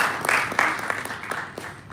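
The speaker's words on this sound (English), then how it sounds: "You can clap for her." Scattered clapping from guests at a bank's succession planning breakfast, a thin, uneven patter of hands at moderate distance that fades within two seconds.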